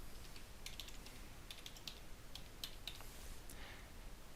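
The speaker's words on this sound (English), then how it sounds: "let's type in his password" Fingers type a password on a computer keyboard in a quiet room, a sparse run of soft, light key clicks with irregular spacing over faint background hiss.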